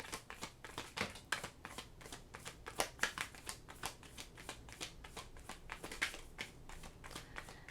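Tarot cards are shuffled by hand in a rapid series of crisp riffling bursts and soft slaps, repeating irregularly at close range and fairly quiet, with no voice over them.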